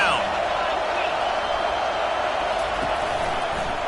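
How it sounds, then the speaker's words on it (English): In a college football video game, a stadium crowd's broad roar swells on a third-down defensive play, running steadily beneath a commentator's voice. "Decibels rising as the crowd gets behind this defense on 3rd down."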